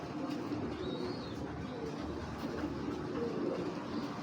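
Pigeons coo softly at a pigeon sale. The low, faint cooing sits under a steady wash of background noise, with no one speaking.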